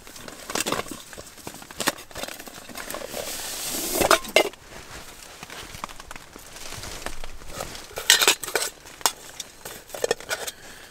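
A metal camping cup with a cooking kit packed inside, pulled from a wool sock in a snowy forest; close clinks and rattles of metal, with a few sharper clanks and soft rustling between them.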